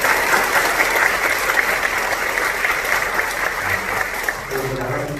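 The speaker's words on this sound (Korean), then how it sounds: "인사하시도록 박수로 한번 격려해 주시기 바랍니다" Congregation at a Korean church service applauding a pastor, steady dense clapping from many hands filling the room, with a voice speaking faintly underneath near the end.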